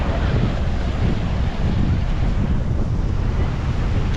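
Sea waves washing onto a black-sand beach in Tainan, Taiwan, a continuous roar of surf mixed with strong wind buffeting the microphone, loud and steady throughout.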